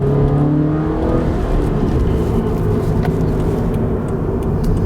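High-revving engine of a 2017 Subaru BRZ screams steadily and loud, a sustained close-up wail with slight pitch shifts and no talking.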